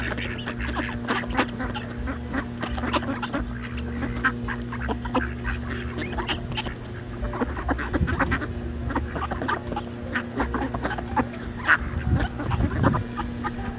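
Ducks quack and honk repeatedly at close to middle distance, several birds calling over a steady outdoor background.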